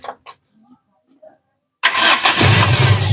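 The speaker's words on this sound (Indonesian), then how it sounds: "Sekali ngecek langsung cekur berarti langsung nyala." A few brief voices, a quiet pause, then the engine of a 1997 Toyota Kijang Kapsul SSX in original condition cranks and catches on the first try, settling into a loud steady idle.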